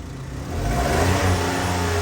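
Several engines revving at high RPM together, a loud close rising roar that swells after a moment and holds steady.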